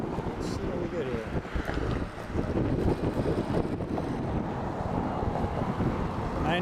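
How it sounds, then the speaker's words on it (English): Wind buffets the microphone at a rowing regatta course during the 2012 Eastern Sprints, a steady rushing roar that stays loud throughout, with a voice talking over it. "We're getting wind now."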